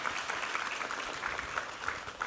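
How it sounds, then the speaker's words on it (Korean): A burst of applause from a church congregation during a Korean Sunday worship service, steady dense clapping filling the whole moment without a break. "우리 하나님께 감사와 영광의 박수 올려드리겠습니다."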